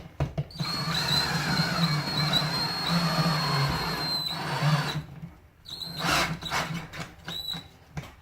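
A power driver with a socket whirs steadily while tightening TV mount bolts, a close, continuous whine for several seconds, then stops and gives a few shorter bursts.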